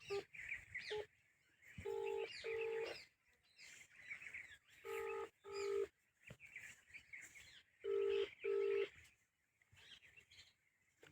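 A phone keypad sounds several dialing tones in short, evenly spaced pairs of beeps, with faint background noise and chirps between them.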